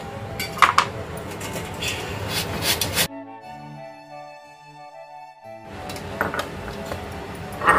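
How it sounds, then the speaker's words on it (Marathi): Peeled raw mango rubbed against a metal grater for a chunda relish, a steady close rasping scrape in two bursts with a quiet pause between, no talking. "ही सालं काढल्यानंतर ही कैरी आपण आता किसून घ्यायची"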